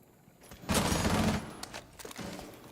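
Submachine gun fire in Rainbow Six Siege during an esports semifinal match, a loud burst of rapid shots followed by a few scattered shorter bursts and impacts.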